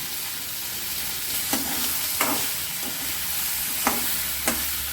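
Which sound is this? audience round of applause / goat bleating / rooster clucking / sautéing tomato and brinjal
sautéing tomato and brinjal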